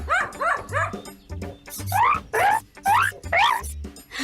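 A dog barks and yips in a rapid run of about eight calls, some rising into whiny, high-pitched yelps, close and clear.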